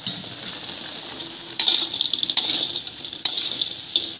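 Tofu is added to a pan for tofu balado and stirred, giving a steady bright hiss of frying oil with a louder sizzle surge as it goes in, then repeated scraping stirs of a spatula, close and loud.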